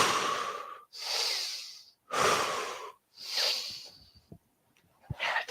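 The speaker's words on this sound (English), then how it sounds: "Take one more breath than you think you can." Deep, forceful breaths taken during a yoga-style arm-balance hold, four long hissing exhales and inhales in a slow rhythm, close to the mic, followed by a few small knocks and shuffles.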